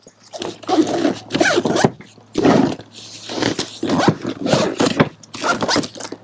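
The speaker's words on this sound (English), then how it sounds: "We're going to just fold it up. Zip each side up." The fabric sides of a foldable magnetic modular storage cube are zipped up in a series of five or six quick, loud, rasping zipper strokes separated by short pauses.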